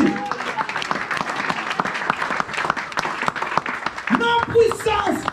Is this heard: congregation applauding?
yes